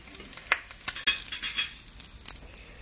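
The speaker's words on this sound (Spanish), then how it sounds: "For those of us who don't like the egg juicy, we flip it. So that it cooks on both sides." Egg frying in a pan for silpancho after being flipped, a soft continuous sizzle with a few sharp clinks of a utensil against the pan.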